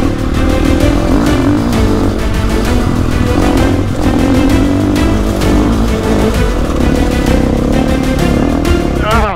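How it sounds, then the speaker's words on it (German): A motorcycle without knobby enduro tires has its rear wheel spinning on a steep slope, engine revving hard and continuously with gritty clatter from the slipping tire, loud and close the whole way through. "Reifen dreht durch."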